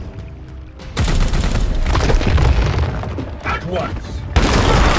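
Gunfire in Warhammer 40K: Chaos Gate - Daemonhunters bursts out as heavy booming volleys with sharp impacts and debris, loud and sustained, with brief talk at the start.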